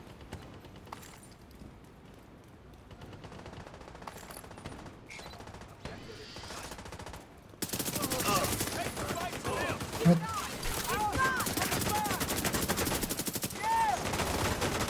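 Gunfire in a video game comes as quiet clicks at first. Then it turns into a loud, dense stretch of rapid shots and impacts that lasts for several seconds under a steady, busy game soundscape.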